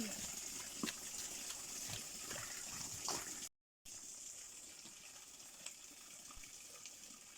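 Cold spring water flows and gushes steadily at close range, a continuous splashing rush broken briefly by a short dropout partway through.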